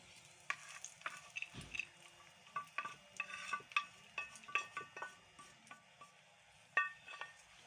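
Roasted dry fruits are scooped from a pan into a pot in a village-style kitchen, giving a string of close, irregular scraping and clinking hits of metal utensils with light rattling pieces, no speech over them.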